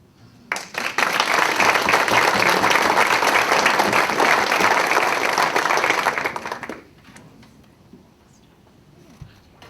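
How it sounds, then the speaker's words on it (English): Audience applause for students being honored as district citizens of the month, a loud sustained burst of clapping for about six seconds that then cuts off to quiet room noise. "So let's give them all a round of applause."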